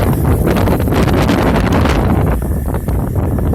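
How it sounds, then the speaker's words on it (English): Strong wind from a hurricane buffets and roars across the microphone, loud and gusty, easing slightly toward the end. "Oh, there's a good gust coming in."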